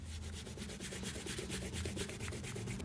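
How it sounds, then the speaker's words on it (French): An eraser rubs away pencil construction lines on paper while drawing a Deadpool emoji, giving a steady, close, rapid back-and-forth scrubbing that continues without a break and with no talk. "on peut gommer nos traits de construction."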